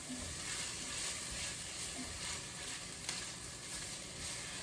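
Chopped onions fry and brown in coconut oil for a black-eyed pea curry, giving a steady, close, dense sizzle that holds evenly throughout with no talk.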